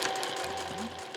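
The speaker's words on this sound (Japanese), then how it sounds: "ここですね2センチ縫い残して返し縫いします" A sewing machine runs a short backstitch on fabric, a fast, steady mechanical whir with rapid needle ticks, close and continuous for about a second with no talking over it.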